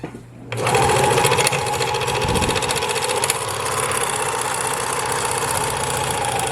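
A Singer U234 serger running through denim, a loud, fast, steady mechanical whir and chatter that starts abruptly and continues evenly close up.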